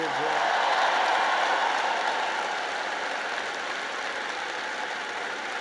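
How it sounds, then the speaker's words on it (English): Sustained, loud applause from a large crowd at a university commencement ceremony in Alabama, a dense steady roar of clapping that slowly eases over several seconds. "let's give a big round of applause to the leaders of this state who chose liberty over lockdowns"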